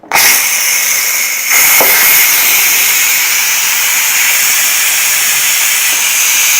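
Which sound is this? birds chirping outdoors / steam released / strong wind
steam released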